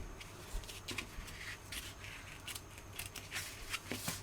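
Sharp repeated snips of scissors cutting fabric around a zipper box on a bag being sewn, a quick irregular series of crisp close clicks in a quiet room.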